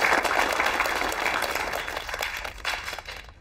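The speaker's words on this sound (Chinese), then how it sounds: "在这里，我们用热烈的掌声表示对楚楚的敬慕。" Warm applause from an office gathering honouring a colleague's strong sales results: dense, steady clapping that thins gradually and cuts off near the end.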